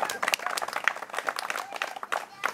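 An audience applauds at a carp fishing championship award ceremony, scattered quick claps rising and falling at moderate volume while a voice speaks through them.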